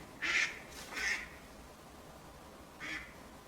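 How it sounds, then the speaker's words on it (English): Ducks outside a window give three loud, raspy quacks, two close together and one after a pause, against a quiet background hiss. "I'm pretty sure there's a duck fight going on outside my window."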